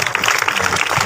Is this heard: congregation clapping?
yes